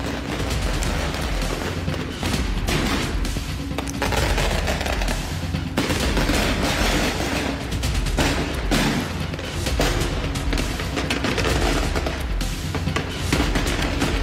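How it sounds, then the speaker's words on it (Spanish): Firecrackers explode during street clashes in Mairana, a dense, continuous barrage of sharp bangs and pops that sounds like rapid gunfire and stays loud throughout. "Usted escucha de fondo cómo los petardos suenan"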